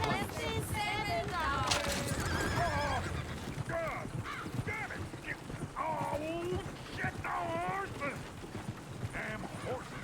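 A horse in a video game neighs and whinnies several times in shrill, wavering bursts, with hoof clip-clops, a busy background and voices in the mix.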